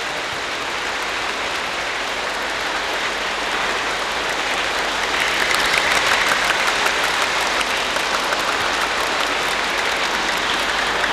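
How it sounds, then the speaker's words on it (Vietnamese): A congregation at Hai Phong cathedral gives sustained applause during an Easter Mass, a dense and steady wash of clapping that swells slightly louder partway through, with no speech over it. "Xin một tràng pháo tay thật lớn nữa để trả cảm ơn tất cả mọi người."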